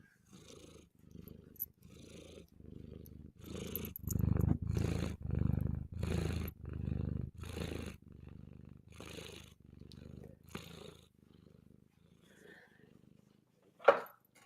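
A cat purrs up close in a steady rhythm of breathy rumbles, loud and continuous, with a brief sharp sound near the end.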